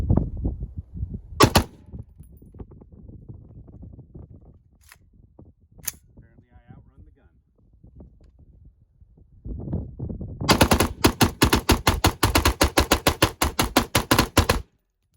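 Armalite M15 rifle with a 13.5-inch competition upper, tuned gas system, tuned compensator and binary trigger: a few sharp, isolated shots early, then a loud, rapid unbroken string of gunfire in a fast magazine dump near the end.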